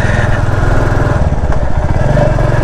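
A motorcycle engine runs steadily on a ride along a rough downhill road, a continuous close, loud drone with a throbbing low pulse that holds level throughout, with no talking.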